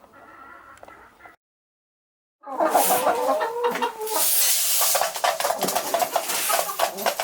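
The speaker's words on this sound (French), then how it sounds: "C'est des morphalous ces poules." Hens peck at food and cluck up close, a busy burst of chattering clucks and scratchy pecking sounds that starts after a brief quiet gap, with a faint voice early on.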